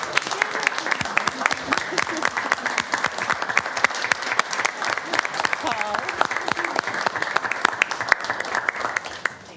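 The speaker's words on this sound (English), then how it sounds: "Do we want to give them an applause?" A city council chamber audience claps for honoured guests, with distinct individual claps audible within a lively, uneven round that runs several seconds before tapering off, and voices murmuring underneath.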